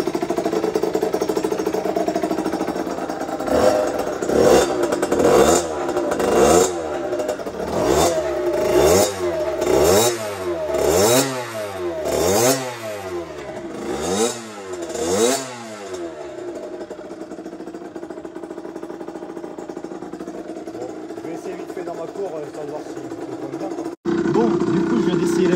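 An MRT motorcycle engine, freshly fitted with new crankshaft bearings and seals, is blipped in a rapid series of rising and falling revs, then drops to a steady idle, with a sharp knock near the end.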